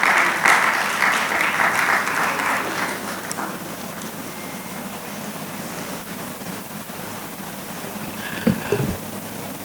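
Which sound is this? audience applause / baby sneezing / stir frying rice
audience applause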